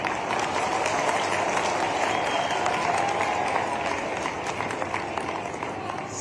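Crowd applause at an outdoor political rally in Shujalpur, a dense, steady wash of many hands clapping throughout, fairly distant and even, with some voices under it.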